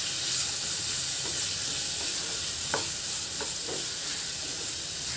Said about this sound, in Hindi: अब इसके अंदर आलू हम डाल देंगे, 2 मिनट के लिए हम इसे इस तरह से भून लेंगे।